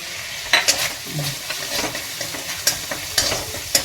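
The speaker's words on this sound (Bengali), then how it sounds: "গোটা গরম মশলাকে ফেলে দিলাম ফেলে দিয়ে একটু নেড়ে নিয়ে" Whole garam masala of cinnamon, cardamom, peppercorns and cloves sizzles in hot oil in a pan as a spoon stirs it, with steady frying hiss broken by sharp scrapes and clinks against the metal.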